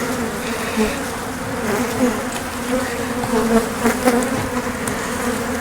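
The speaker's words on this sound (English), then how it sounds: "We got a lot of bees in this hive." Italian honeybees crowd a hive in a loud, close, unbroken buzz that swells and dips slightly as the swarm of wings hums together, with no voices over it.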